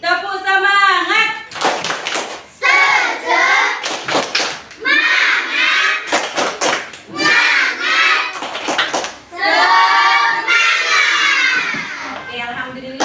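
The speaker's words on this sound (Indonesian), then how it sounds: "Sekarang ibu guru mau tes semangat belajarnya. Tepuk semangat." A class of schoolchildren in an Indonesian classroom performs the rhythmic spirit clap, chanting in unison between bursts of sharp, patterned hand claps. Loud and close, their voices alternate with the claps in a lively sequence.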